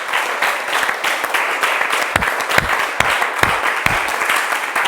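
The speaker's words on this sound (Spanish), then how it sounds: "Dale un aplauso a Cristo y al Espíritu de Dios" A class audience at a Bible institute breaks into applause for Christ and the Holy Spirit, the busy clapping punctuated by several loud, sharp individual claps near the listener.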